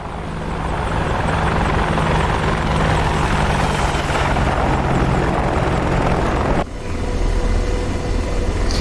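A loud, continuous AH-64D Apache helicopter rotor roar with steady engine drone in the game DCS World, close and unbroken, briefly dipping near the end before resuming.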